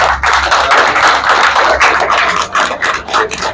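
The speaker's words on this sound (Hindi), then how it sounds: "मेरे स्टाफ के लिए सब मिलकर तालियां बजाएं" A crowd applauds staff at a restaurant opening ceremony in Al Wahda, Sharjah: dense, close, loud clapping that stays steady for the whole stretch, with no speech over it.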